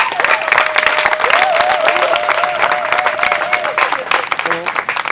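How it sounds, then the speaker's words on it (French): An audience at a staff reception applauds steadily for several seconds, with a whistling or sung melodic tone riding over the clapping and voices mixed in. "Je vous demande d'applaudir notre papa à tous."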